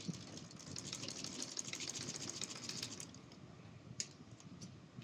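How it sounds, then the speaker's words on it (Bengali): A sewing machine stitching fabric hums in a fast, continuous mechanical whir at a quiet level, with a short stop and one small click near the end. "যাতে ঠিকঠাক কাপড় কুঁচকে না যায়, সেইভাবে সেলাইটা দিয়ে দিচ্ছি"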